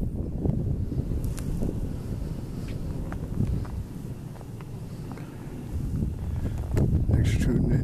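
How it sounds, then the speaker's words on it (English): Cold wind blows off the ice in a steady, rumbling gust across the microphone, loud and continuous throughout, with a few faint clicks and rustles. "This wind off of this ice is chilly, really, really chilly"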